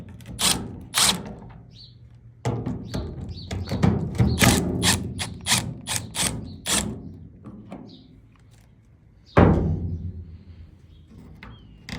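Bolts being removed from the gas filler neck behind the fuel door of a square body Chevy pickup, heard as a series of close, sharp metallic ratcheting clicks and clunks in irregular bursts, with no talking.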